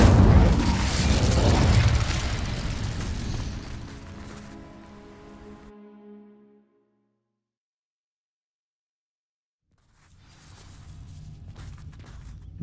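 Incendio fire spell from Hogwarts Legacy, a loud whooshing fiery burst that fades over several seconds into ringing tones, then silence before faint crackling returns.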